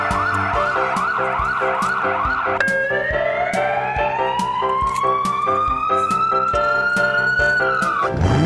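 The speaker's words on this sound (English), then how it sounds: "Fire engine." A toy fire engine siren wails loudly and steadily, first in quick warbling cycles and then in a long rising sweep, with rapid electronic ticks running beneath it and no voices.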